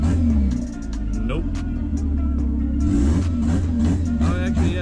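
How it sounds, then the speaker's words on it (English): Honda Integra fitted with a new turbo, its engine idling with a deep rumble and a couple of brief revs, close and steady, heard alone without talk. "let's go ahead and rev it up a little bit."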